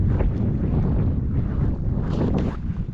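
Strong, steady wind buffets the microphone outdoors on a frozen lake in about minus 4 degrees, a continuous low roar with gusty swells and no voices.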